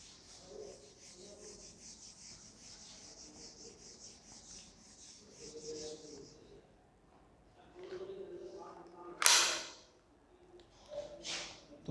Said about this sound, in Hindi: मैं इसे अभी रब करने जा रहा हूँ।